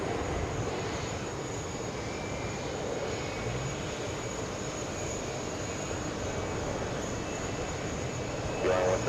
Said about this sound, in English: We have American on final approach.